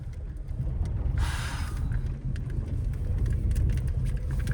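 Car pulling away in first gear during a driving lesson, with a steady low engine rumble and one brief louder rush near the middle, and no talk.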